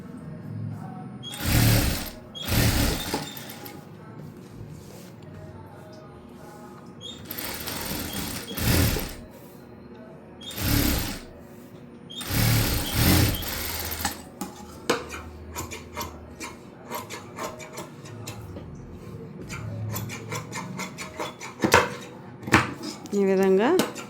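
Sewing machine stitching a back-open, front princess-cut blouse, running in several loud bursts separated by pauses, with softer handling and clinking of tools between runs.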